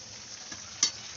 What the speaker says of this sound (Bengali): চলো নাড়াচাড়া ভালো করে একটু করি